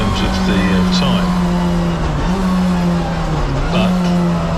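Touring race cars, including turbo models, lap behind a safety car with a loud, continuous engine drone whose pitch slides as they go. A commentator talks over the engines the whole time.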